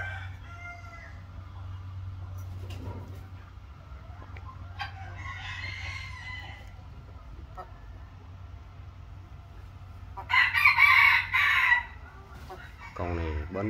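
A rooster crows loudly once, close by, over a steady low hum, with faint clucks and rustling before it.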